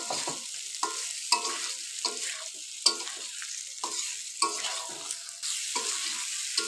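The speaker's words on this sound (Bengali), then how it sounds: "টমেটো আলুর সাথে একটু নাড়িয়ে মিশিয়ে নেব।" Tomatoes and potatoes fry in a pan for a koi fish curry, with a spatula scraping and stirring in repeated bursts over a steady, close sizzle.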